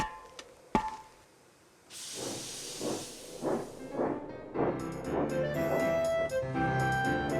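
Thomas the Tank Engine puffing along toward a wharf, a loud hiss of steam followed by a steady run of rhythmic chuffs that grow busier, with bright clanking and whistle-like tones layered on top near the end.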